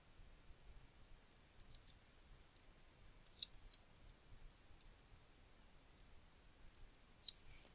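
Computer mouse clicks while setting up Blue Prism RPA software on a desktop, sparse sharp clicks in small pairs and singles scattered across a quiet background.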